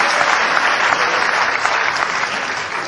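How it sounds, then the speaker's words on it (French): Audience applause at a live stand-up comedy show, a loud, dense burst of clapping from the crowd, continuous and close throughout. "C'était là qu'il fallait applaudir."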